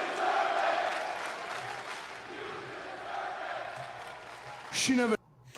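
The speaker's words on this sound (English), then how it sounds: "So the crowd is chanting, "You deserve it."" Wrestling arena crowd at a televised show chants in unison, a rhythmic roar of many voices heard at a distance, steady across the clip before a brief louder swell and an abrupt cutoff.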